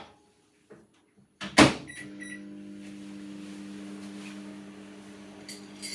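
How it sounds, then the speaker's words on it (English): A microwave oven heating a bowl of baked oats: a door click and latch thump, then a steady low electric hum with a buzzing tone that runs unbroken to the end, close and fairly quiet. "put this in the microwave for 1 minute"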